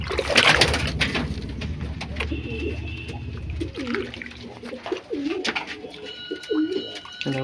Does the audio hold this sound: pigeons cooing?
yes